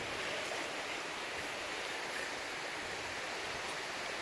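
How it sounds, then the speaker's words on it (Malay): Steady broadband rush of a waterfall, the Seven Angels falls deep in the jungle of North Aceh, Indonesia, loud and close with no break across the whole stretch. "Disinilah air terjun."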